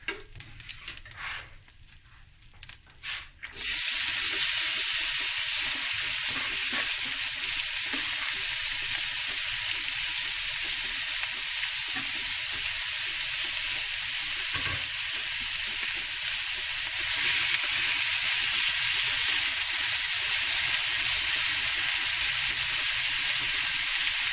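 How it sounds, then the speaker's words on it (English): Six large chopped onions tipped into hot oil in a big pot, a sudden loud surge of sizzling after a few quiet seconds that holds as a dense, steady hiss throughout, close and unbroken by talk. "I'm going to add 6 large onions chopped up"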